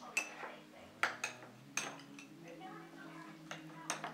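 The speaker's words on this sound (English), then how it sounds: "you're going to want to stir it again with your spoon" A spoon stirs hot melted butter in a pan, giving sharp metallic clinks and taps against the pan at an irregular pace, with a low hum steady underneath.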